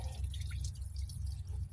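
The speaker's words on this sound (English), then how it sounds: "Look at all that water. That is dirty coolant." Dirty, rusty coolant drips and trickles from a heater hose pulled off a Ford Focus engine, a steady close liquid patter over a low mechanical hum, with no talking.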